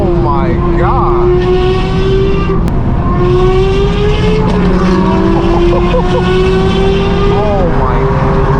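A straight-piped BMW M4 G82 roars loudly with a sustained, raspy exhaust drone that rises and falls as it accelerates through traffic, heard up close alongside other passing cars.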